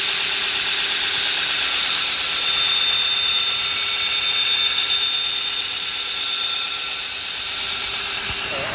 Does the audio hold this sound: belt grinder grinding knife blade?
yes